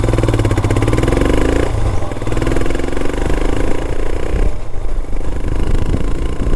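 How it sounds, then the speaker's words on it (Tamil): A motorcycle fitted with a Red Rooster aftermarket exhaust and BMC air filter, its loud, close exhaust note rising in repeated rev sweeps over a steady, throbbing engine rumble, with no talk. "நம்ம ஆடியன்ஸ்க்கு எக்ஸாஸ்ட் நோட் எப்படி இருக்குது அப்படின்றத காமிக்கிறது தான் ஒரு ஜஸ்டிஸாக இருக்கும்."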